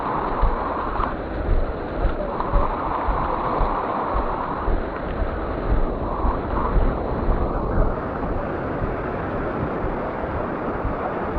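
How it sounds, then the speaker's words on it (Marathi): Heavy floodwater of the Bharja river rushing beneath a bridge in the Konkan, a dense, steady roar with wind buffeting the microphone throughout, loud and continuous with no speech. "तुफान पाणी वाहतंय."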